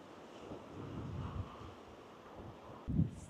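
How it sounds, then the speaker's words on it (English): Wind gusts at the seaside on the Moray coast in North East Scotland, a faint, broad rush with low buffeting against the microphone and a brief stronger thump near the end. "Still a bit breezy, very windswept, but blows away the cobwebs."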